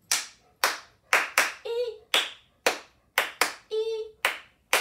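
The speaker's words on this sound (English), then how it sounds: "Now, how many times are we gonna clap?" Crisp hand claps in a steady rhythm, close and loud, broken twice by a short sung note between groups of claps.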